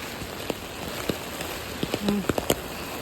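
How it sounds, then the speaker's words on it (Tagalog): Heavy rain at a camp in Japan pattering on a surface with scattered louder drips and taps over a constant hiss, moderately loud and close. "Saga ng ulan po. Ang laki."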